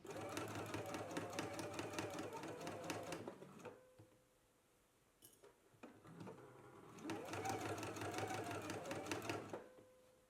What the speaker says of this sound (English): when I go to the sewing machine, I'm going to stitch close to the binding